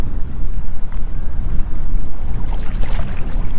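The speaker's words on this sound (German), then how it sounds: "Kommt gerade die Fähre, wir warten." A passing ferry on the Rhine is heard from a kayak in strong wind, its low rumble mixed with heavy wind buffeting and water noise, loud and close throughout.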